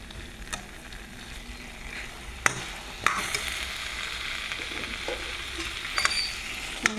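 A fish head fries in hot oil in a pan, a steady crackling sizzle with sharp pops and spatters scattered throughout and a few stirring knocks, close up and with no talking.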